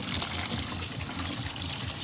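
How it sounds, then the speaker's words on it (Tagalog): Hot water poured from a container onto a pile of leaves for a herbal bath, a steady splashing trickle that runs continuously and sits close, with no talking. "so we're having here mainit na tubig mga kadangs, and ibuhos mo lang yan sa mga leaves"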